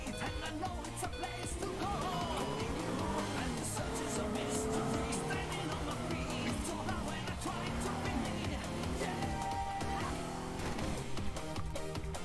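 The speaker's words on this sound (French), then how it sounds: "J'avance et je fais des drifts avec les roues." A car drifting in the destruction sandbox game Teardown: a continuous engine drone with shifting tire squeal running throughout, steady and close.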